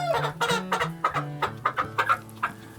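Chickens clucking and squawking in agitated bursts while being caught for lice treatment, a rapid run of close, loud, rhythmic calls from several birds with no voices over them.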